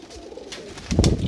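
Kamagar pigeons coo nearby, a quiet lull swelling into a loud, rolling, throaty coo in the final moments, heard alone without talk.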